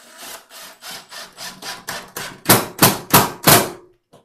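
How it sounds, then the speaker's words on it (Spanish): A screw being driven into a bathroom wall cabinet during installation, heard as about eleven close, rhythmic rasping strokes that grow louder and sharper toward the end before stopping. "aquí procedemos con el primer tornillo"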